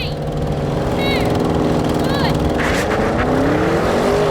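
BMW M5, Audi RS6 quattro and Mercedes-AMG E63 S estate cars accelerate hard side by side in a drag race, a loud, continuous multi-engine roar with rising revs and gear-change tones, while people shout and talk over it.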